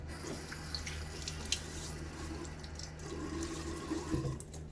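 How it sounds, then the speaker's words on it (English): Water splashes and trickles close by at a sink as a face is wetted before shaving, with soft irregular splashes and dripping over a quiet room hum. "throw a little water on my face"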